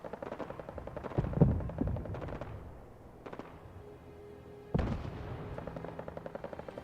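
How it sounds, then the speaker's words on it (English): Gunfire in the video game Sim Settlements 2, with distant bursts of rapid shots crackling in clusters, a quieter lull, then a sharp louder volley that keeps rattling on. "I hear guns"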